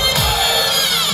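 A crowd roars in a brief, dense burst of cheering and applause for runners in a Santa Claus race in Dnipro, loud and close with overlapping voices throughout.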